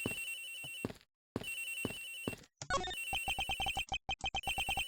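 Electronic phone ringtone in Ace Attorney Investigations, a repeating trill in bursts broken by short pauses, then a quick rising jingle and a fast run of bright beeps, fairly clear and alone.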